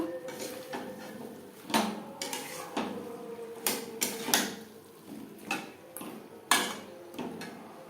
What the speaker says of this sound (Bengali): আলু মশলার সাথে বেশ ভালো করে মিক্সড করে দেব।